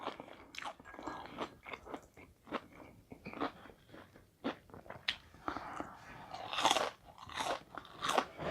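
Crunchy fried shrimp tempura is chewed close to the mic, with a steady run of crisp, crackling bites and crunches that grow louder toward the end. Quiet mouth sounds fall between them and no one talks.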